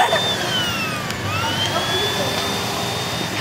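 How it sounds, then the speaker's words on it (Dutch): A household vacuum cleaner runs steadily and loudly throughout, a continuous whining motor roar with a high pitched tone, while people talk over it. "Kun jij deze stofzuiger even uitzetten?"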